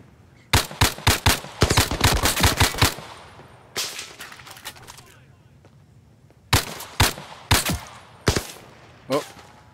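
Gunfire in the VR shooter Zero Caliber: rapid bursts of automatic shots, loud and close, in two clusters with a pause between, plus a few single shots near the end.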